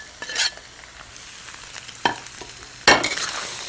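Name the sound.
curd with turmeric and salt sautéing in a pan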